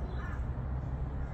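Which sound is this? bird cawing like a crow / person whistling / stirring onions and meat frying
bird cawing like a crow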